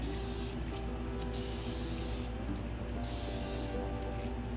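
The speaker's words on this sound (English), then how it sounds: "Can I spray some alcohol?" A steady, continuous hiss of alcohol spraying from a spray bottle onto resin, close and fairly loud, running the whole time with no pauses.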